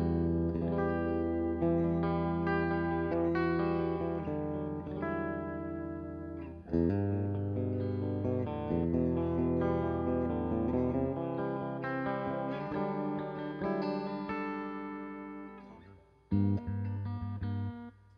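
Electric guitar played through a Paul Reed Smith amp with reverb and delay effects, sustained chords and ringing notes blending into a washy tail, loud and close with a brief pause before the playing resumes.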